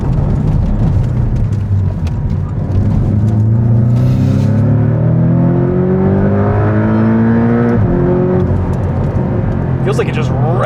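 A 2019 Porsche 718 Cayman with PDK gearbox revs high and climbs steadily in pitch, loud and close inside the cabin, with brief talking at the start.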